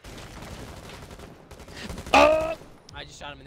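Gunshots in the video game Rainbow Six Siege: a low stretch of game noise rises to one sharp, loud shot with a ringing tail, then a brief voice follows.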